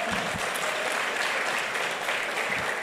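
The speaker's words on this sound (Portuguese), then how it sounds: "Inclusive, vamos aplaudir." A church congregation applauds, a dense steady wash of clapping filling the whole moment at even loudness with a voice faintly underneath.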